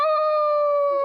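A single sustained canine howl, loud and close, holding a steady pitch for about a second with no other sounds, in a night jungle setting.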